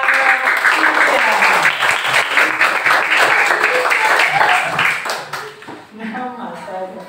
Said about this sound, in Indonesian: Tepuk tangan untuk Mbak Cynthia